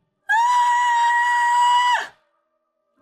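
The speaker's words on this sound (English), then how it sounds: "breaks the silence with a scream" A woman lets out a single loud, sustained scream lasting under two seconds, high and piercing, ending abruptly into silence.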